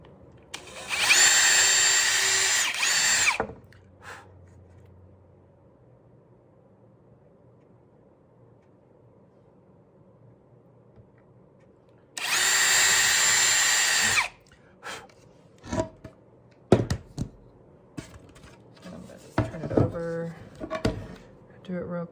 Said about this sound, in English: So I am just going to take the drill